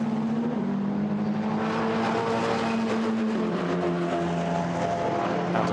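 Formula Renault Eurocup race cars at Silverstone, their engines droning and shifting pitch as they pass and pull away, loud and continuous with no voices.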